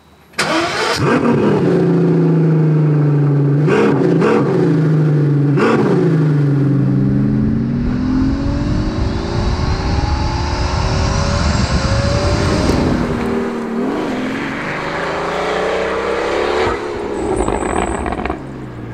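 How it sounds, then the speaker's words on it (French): A Pagani Utopia's V12 engine cranks and fires, idles with a few blips, then revs up in a long rising wail before settling back, loud and close, with no talking. "Vous allez écouter le bruit de ce V12"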